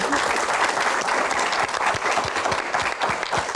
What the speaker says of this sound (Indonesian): Tepuk tangan untuk Pak Bahlil